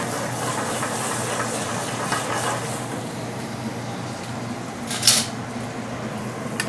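Fish in thin crisp batter frying in a pan with butter, a steady broadband hiss that holds through the whole stretch, with one brief louder spit near the end.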